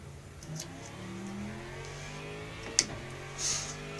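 A GT3 race car at Sebring in the Le Mans Ultimate sim revs and shifts at moderate distance, engine tone rising and falling with a couple of sharp clicks and bumps.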